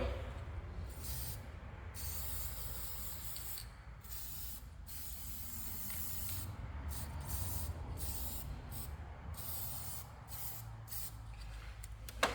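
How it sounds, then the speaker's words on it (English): Steady close hiss of an aerosol can spraying continuously with no break onto a 2004 Jeep Grand Cherokee with a coolant leak, under a low background rumble. "Shake the can up, and then we'll spray this on."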